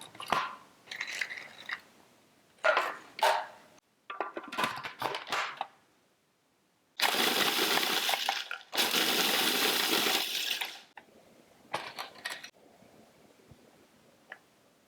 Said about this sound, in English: since my pecans are still whole, I'm gonna crush them first